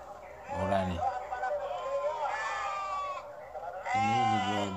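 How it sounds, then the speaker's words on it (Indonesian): A Javanese goat of the Jawa Randu breed at a livestock market selling sheep and goats bleats twice in loud, wavering cries, one short and one drawn out, over a continuous din of people talking. "Ini kayaknya sepertinya kambing ini nih, kambing Jawa juga, Jawa Randu apa?"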